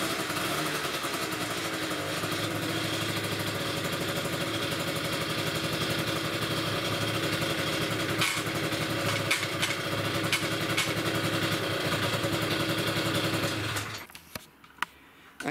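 A Peugeot Speedfight 3 scooter engine runs steadily at close range for about fourteen seconds, a buzzing idle with a few brief blips, then cuts off abruptly into near silence.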